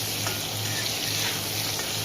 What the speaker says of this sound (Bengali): তো আলুটাকে প্রায় 3-4 মিনিট মতো আমি ভাজা ভাজা করে নিচ্ছি।